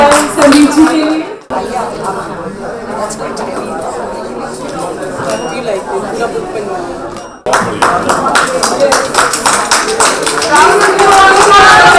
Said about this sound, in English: So please give him a big round of applause for receiving this.